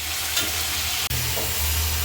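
Loud, continuous sizzle of chicken frying in oil, with a brief dip midway and some stirring noise underneath, no talking.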